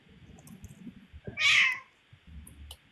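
A cat meows once, loud and close, a drawn-out cry lasting about half a second amid faint low background rumble and soft indoor noise.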